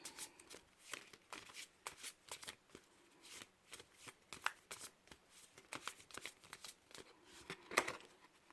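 Past life oracle cards being shuffled, a steady run of soft papery riffles and slaps with some sharper flicks near the end, close and fairly quiet, with no talk.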